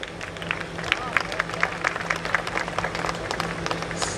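A crowd at a live police award show claps warmly, steady, close applause with scattered individual claps standing out, while voices carry on beneath the noise.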